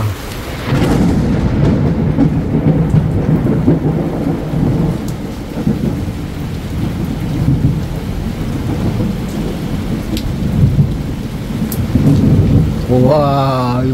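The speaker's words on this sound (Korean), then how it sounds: "이거 천둥 소리가 이거 뭐 너무 살벌한데" A loud, close thunderstorm with a steady roar of heavy rain and deep rolling thunder that continues throughout. Near the end, a high chirping sound briefly rises over the rain.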